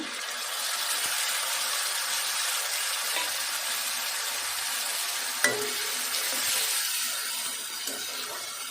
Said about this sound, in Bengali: পেঁয়াজ আর আদার পেস্ট দিয়ে দেবো।